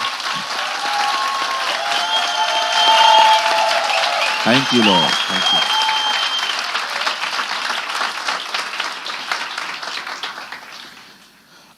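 A church congregation applauds for Jesus with sustained, loud, dense clapping that builds and then fades out at the end, while someone speaks over it.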